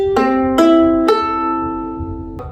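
Four open strings of a ukulele plucked one at a time, each a clear ringing note left to sustain, the last one coming after a longer pause; played solo and close with no talking.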